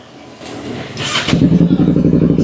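Kawasaki Ninja 650 fitted with a JPT aftermarket muffler, heard loud and close as it settles into a steady idle with a fast, even pulsing beat after a brief rise.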